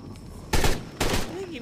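Gunfire in the video game ARK: Survival Evolved, inside an ice cave, comes as two short bursts of shots about half a second apart over a quiet background.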